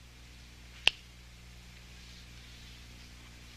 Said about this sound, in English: And now, when I snap my fingers